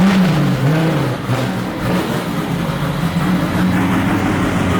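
Tanner Foust's VW Passat drift car engine revs up and down close by, a loud, throaty roar swelling and dipping in pitch over several seconds with no voices.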